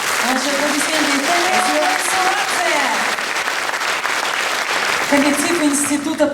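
Sustained clapping from an audience at a festive concert at a border service institute, thick and loud throughout, with someone speaking over it at the beginning and again near the end.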